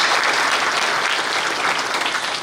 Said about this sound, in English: please, another big round of applause for Harj and his family for his sacrifice